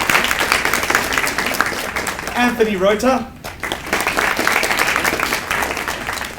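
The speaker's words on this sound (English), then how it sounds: "And a round of applause first" At a primary schools state debating championship, audience applause runs throughout as a steady patter of clapping beneath an announcer's voice reading names, briefly dipping before resuming.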